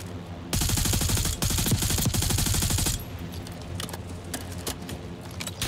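Rapid bursts of automatic gunfire in a military shooter video game, loud sustained rattling volleys for a few seconds, then scattered distant shots and battle noise continuing.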